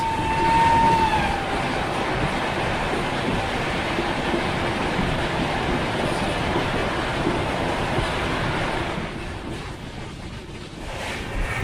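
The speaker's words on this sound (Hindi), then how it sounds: "And here comes the most awaited zing of this journey, Mumbai Rajdhani Express." The Mumbai Rajdhani Express rushing past on an Indian Railways line, a loud, continuous roar of wheels and wind filling the whole span, with a brief high whistle-like tone at the start and the noise easing near the end.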